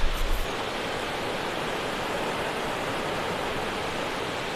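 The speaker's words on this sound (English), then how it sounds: "It's the tail end of a river right before a dam." River water flowing at its tail end just above a dam, a continuous broad rushing wash heard steadily, with a brief bump or handling noise at the very start.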